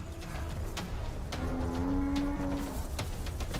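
A buffalo cow's long, low moo rises and holds mid-clip over a busy outdoor wild savanna backdrop of rustling and faint bird calls.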